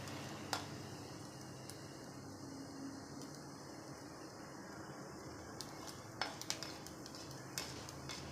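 Capsicum pieces are stirred with tempering spices in hot oil in a kadai, giving a faint low sizzle with occasional sharp metal clinks of the spoon against the pan.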